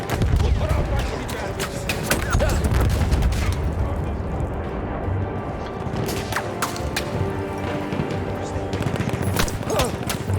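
Heavy gunfire in a Battlefield 1 firefight on the Gallipoli campaign: continuous volleys of rifle and machine-gun shots with booms and crashes, loud and dense throughout, with a voice talking over the battle.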